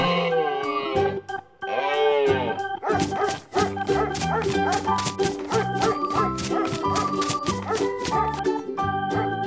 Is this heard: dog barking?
yes